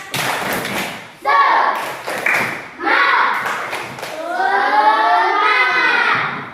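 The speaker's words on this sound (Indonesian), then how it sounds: "coba kita tepuk semangat dulu" In an elementary classroom lesson, children do a rhythmic spirit clap, sharp patterned bursts of hand claps and thumps alternating with loud group chanting voices, all close and lively.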